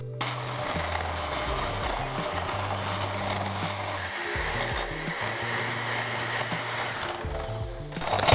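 An electric hand mixer creams butter and sugar for a strawberry cream cake, a steady loud motor whine running unbroken for several seconds with slight shifts in pitch as the beaters work the bowl, no talking.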